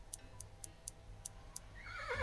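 A horse in a point-and-click adventure game whinnies, rising loudly right at the end after a run of six evenly spaced faint ticks.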